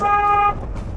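A car horn gives one clear, steady honk of about half a second during a driving lesson on the Dhaka–Sylhet highway near a bus stop, then fades into low road and engine rumble.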